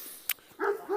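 A dog yelps once sharply, then gives two short whimpering barks, moderately close and fairly quiet against a low background, from one of several dogs kept outdoors alongside a Kangal–Dogo–Boerboel cross.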